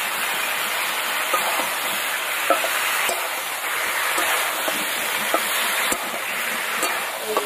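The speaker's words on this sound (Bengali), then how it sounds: "টমেটোটা দিয়ে ভালো করে নেড়ে দিলাম।" Grated tomato is stirred into hot oil in a frying pan for a cauliflower curry, giving a steady broadband sizzling hiss with scattered soft scraping clicks throughout and no speech.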